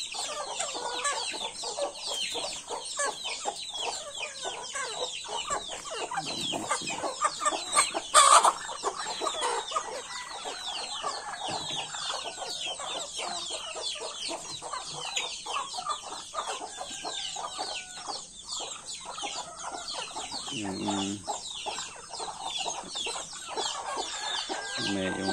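Chickens cluck steadily in a backyard pen beside ducks, with overlapping calls from several birds at moderate distance running the whole time, and some faint talk underneath.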